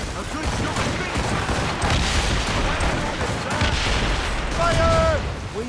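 Ship cannons firing in broadside volleys during a naval battle in Assassin's Creed Rogue, loud booms and crackling blasts layered over wind, sea and shouting crew voices throughout.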